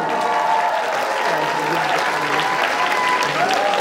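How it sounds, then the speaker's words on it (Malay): A ceremony audience gives warm, steady applause for a teacher prize finalist, full and close throughout, with faint voices from the crowd underneath. "tepukan untuk Cikgu Muhammad Nazmi dari SK Long Sembahyang Sarawak"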